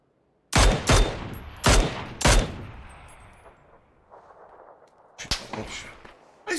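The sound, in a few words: gunfire in a video game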